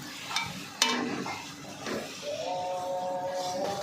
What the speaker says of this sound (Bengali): এভাবে আমি সবগুলো ভেজে নিচ্ছি